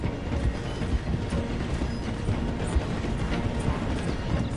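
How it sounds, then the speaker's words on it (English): A train slows as it passes through a station in a video game, making a continuous dense rumble with rhythmic clattering of wheels and carriages, steady and fairly loud throughout. "The train is slowing down to go through the station."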